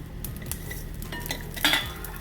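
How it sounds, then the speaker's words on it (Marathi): Cinnamon and cumin dry-roasting in a pan, faint crackles and a few light metallic scrapes and clinks of a spoon against the pan, quiet and close. "कलमी भाजून घेते. तसेच त्याच्यामध्ये थोडं जिरं घालून घेते."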